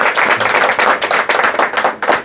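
An audience at a job-training talk claps steadily and loudly, with dense, rapid, continuous hand claps filling the space without any voices.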